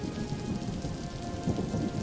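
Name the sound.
rain falling in a cartoon story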